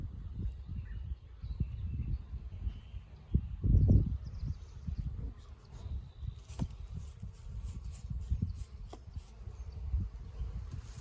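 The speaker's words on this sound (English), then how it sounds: "There should be a good number of bees out of the hive right now." A low, continuous hum of many honey bees buzzing around a hive during an inspection, swelling briefly louder at one point, with faint higher buzzing passes overhead.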